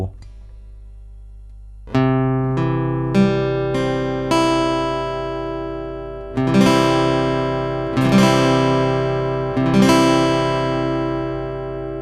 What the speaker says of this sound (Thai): นี่คือเสียงของคอร์ด C นะครับ